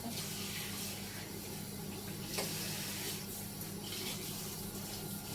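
Hot tap water runs steadily over leafy greens in a sink, a soft continuous splashing with a small clatter partway through, faint and close.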